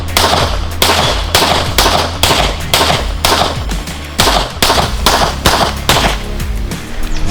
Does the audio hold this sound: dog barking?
no